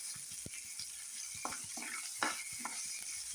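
Chopped green chilli and curry leaves sauté in a pan with a faint, continuous sizzle, punctuated by soft scraping and tapping from stirring, with no talk.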